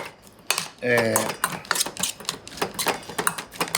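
A utensil clicks and clatters rapidly against a bowl while ingredients are mixed with butter and garlic powder for a Bolognese doria, in dense, uneven taps up close, with a brief voice near the start.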